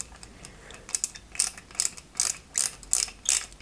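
Close, quiet ratcheting clicks in quick bursts as small screws are driven into the upper fairing of a 1/8 scale Lotus Renault 97T model.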